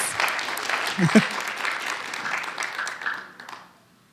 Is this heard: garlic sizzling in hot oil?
no